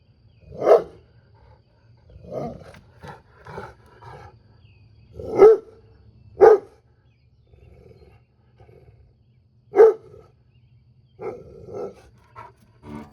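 A Black Russian Terrier barks in deep, gruff bursts, loud and close, spaced irregularly with several strong single barks and quieter shorter ones between, over a low steady hum.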